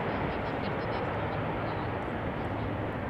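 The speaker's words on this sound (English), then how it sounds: "That was significantly louder than the previous 747." A Boeing 747 airliner arriving at Amsterdam Schiphol Airport roars past, a loud, dense, continuous engine rumble holding steady throughout.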